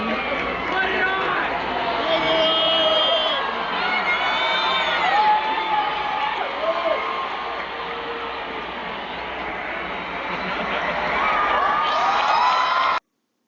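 Concert crowd at a tour show cheering and shouting continuously, a loud dense wash of voices with whoops rising throughout, swelling again near the end before cutting off abruptly.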